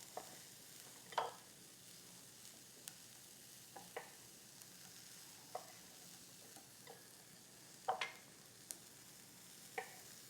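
Quinoa with shrimp sautéing in a pan gives a faint, steady sizzle, broken by scattered sharp utensil scrapes and stirring clicks recurring every second or two, with no voices.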